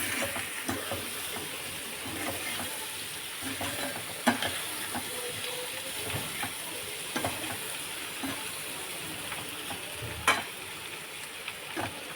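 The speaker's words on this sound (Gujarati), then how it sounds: "આપણે સરસ રીતે મિક્સ કરી લઈશું" Potato curry with coriander-cumin powder, turmeric and red chilli is stirred in a pan over a steady sizzle, with a spoon scraping and knocking against the pan at irregular intervals.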